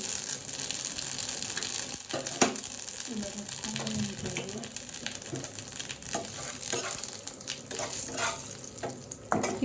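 Cumin and radhuni seeds sizzle in hot oil for khichuri, a steady frying hiss with scattered stirring clicks and clatter, while a voice talks intermittently in the background.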